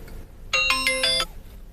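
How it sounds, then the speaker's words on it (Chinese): A single short burst of telephone ringing, a bright electronic ring that lasts under a second and sounds fairly close against a quiet room. "我跟他打个电话啊，录一下。"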